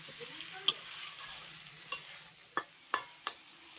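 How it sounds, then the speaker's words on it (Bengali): Eggplant being stirred together with potatoes in a frying pan for a vegetarian dish, a faint background sizzle punctuated by about five crisp spatula scrapes at irregular intervals. "এবার বেগুনটাকে আলুর সঙ্গে ভালো করে মিশিয়ে নেবো"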